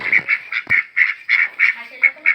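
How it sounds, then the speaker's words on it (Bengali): Ducks quack in a quick, regular series of about a dozen loud, nasal honking calls, close by, with a faint low murmur in the background. "এই যে তিনটা হাঁস"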